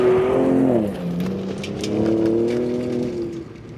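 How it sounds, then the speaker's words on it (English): A Ford Raptor truck's twin-turbo V6 engine drones steadily up close, its pitch dipping and then rising again as it revs through an off-road driving run, loud and continuous with no talk. "a full day of listening to the wonderful twin-turbo V6"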